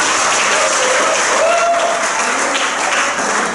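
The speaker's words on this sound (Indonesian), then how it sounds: "Mari kita tepuk tangan kemuliaan buat Tuhan." A church congregation claps together in sustained, dense applause that carries steadily from start to finish, filling the room at an even loudness.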